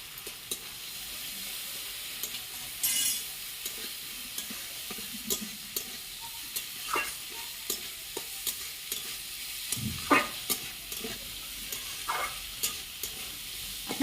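Moong dal and broken bori fried and stirred together in a pan, a continuous sizzle with frequent clinks and scrapes of the spatula against the pan throughout, close and moderately loud.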